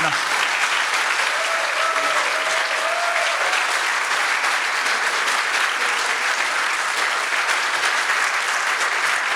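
Loud, dense clapping from a big audience at a lecture, a continuous roar of applause with a faint voice briefly audible underneath early on.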